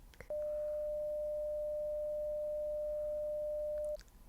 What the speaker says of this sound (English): So this is what 600 hertz sounds like.